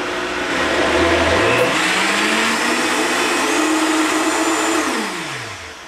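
A blender whirs loud and steady through a green smoothie of fresh summer greens and fruit, its motor pitch climbing as it spins up, holding for several seconds, then winding down near the end.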